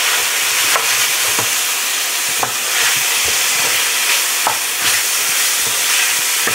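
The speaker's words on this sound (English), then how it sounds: "Now while that's cooking down, in with garlic and onions I go." Garlic and onions sauté gently in a pan, a steady close sizzle broken by the scrape and clatter of stirring.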